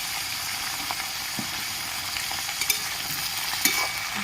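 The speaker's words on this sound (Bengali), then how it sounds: "ভালো করে নেড়ে নেব হলুদ নুন দিয়ে।" Malabar spinach stems with salt and turmeric sizzle in a hot pan, with a steady frying hiss and occasional scraping clicks of stirring.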